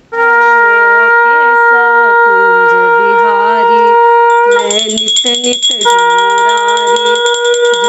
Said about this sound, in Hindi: तो मैं शंखनाद करवा के और आपको सुनाती हूँ।